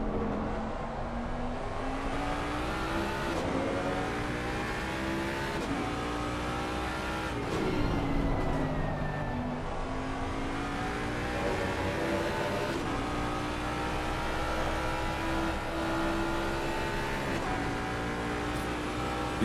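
A sim racing car's engine at Zandvoort in an online league race, heard from onboard: a loud, continuous drone that rises and falls through gear changes and revs, with brief lifts on corner entry, close and unbroken, with no talk.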